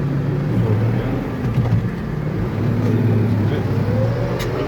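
A tractor engine drones steadily and loudly while pulling a Matris spring-tine seed drill through a field being prepared for wheat, a continuous low rumble with slight shifts in pitch and no break.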